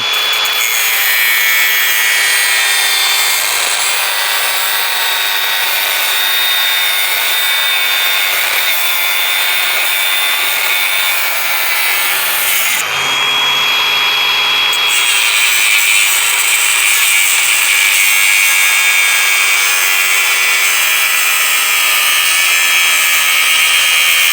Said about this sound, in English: I'm gonna try and put a slice in this dowel rod.